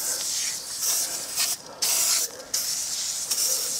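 Upholstery and carpet cleaner foam sprays from a can onto a Golf's interior, a loud close hiss in several bursts with short pauses between them.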